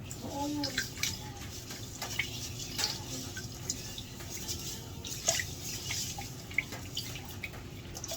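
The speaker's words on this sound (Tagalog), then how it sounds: "So, ito tapon ko ng tubig. Yung tubig lang, di yung bigas." Rice-washing water poured out in a home kitchen sink, with soft splashing and scattered close drips and taps over a steady watery background, unaccompanied by talk.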